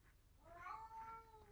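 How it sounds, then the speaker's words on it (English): A house cat yowls in a drawn-out, wavering meow, faint and distant in the background of a quiet room. "you can hear my cat yelling in the background"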